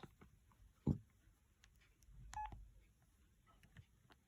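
A Sprint LG slider phone's keypad gives a single short beep among soft clicks and handling noises in a quiet room.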